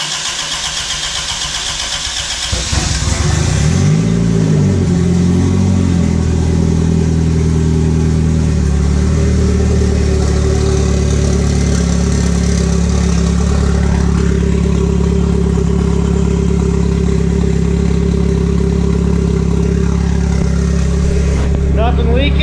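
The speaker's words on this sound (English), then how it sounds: "we're going for the first startup right now." A turbocharged Toyota Corolla engine cranks for its first startup, then fires up and settles into a loud, steady, rumbling idle that runs on close by for about twenty seconds.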